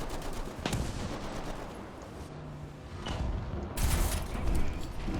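Tank cannon fire in War Thunder from a Panzer IV H, heard as loud game shots and booming impacts, with a sharp report early and a heavier burst near the end over continuous battle noise.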